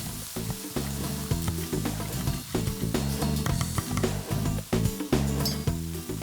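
Halloumi sizzles and spits loudly in a hot pan, a dense continuous frying crackle with clanking pan sounds and no talk.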